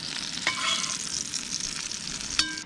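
Sausages frying in a camping pan give a steady, close sizzle and crackle, with a couple of sharp clinks of a utensil against the pan.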